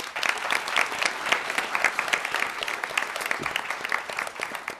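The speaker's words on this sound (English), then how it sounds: "Give him a round of applause." At a Champions of Change storytelling event, the audience breaks into a steady, close round of applause, crisp hand claps layered densely for nearly five seconds without speech.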